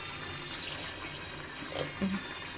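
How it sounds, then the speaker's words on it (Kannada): About a cup of water splashes into a pressure cooker holding cumin seeds, a soft running trickle at moderate distance with a few brief clinks near the end. "ಇದಕ್ಕೆ ಇನ್ನೊಂದು ಕಪ್ಪಷ್ಟು ನೀರಷ್ಟು ಹಾಕ್ತೇನೆ ರೀ"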